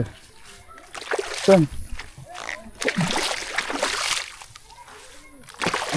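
Floodwater in the rainy season splashes and sloshes irregularly around a boat, with nearby speech running over the watery bursts.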